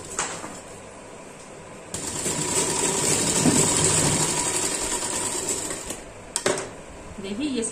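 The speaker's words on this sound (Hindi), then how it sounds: "साइड में सिलाई लगा रही हूँ।" A sewing machine stitching the side seam of a pair of trousers, its motor whirring in a steady close run that swells in the middle and ends with a few sharp clacks, with a voice briefly over it.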